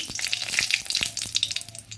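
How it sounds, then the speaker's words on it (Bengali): Dried red chili sizzles in hot oil in a frying pan, a close, crackling hiss full of rapid irregular pops and spits, heard alone without talk. "আলু ভাজার কড়াইটাতে আমি আরেকটু তেল দিয়ে এখানে দিয়ে দিলাম একটা শুকনো লঙ্কা ফোড়ন"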